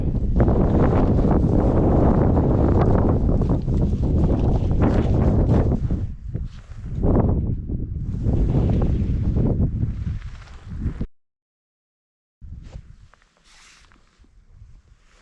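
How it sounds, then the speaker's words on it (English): Strong wind buffeting the microphone on the summit of Arnison Crag in the Lake District, loud roaring gusts that rise and fall, briefly cut out, then return more faintly. "Oh, this wind is a little bit fresh."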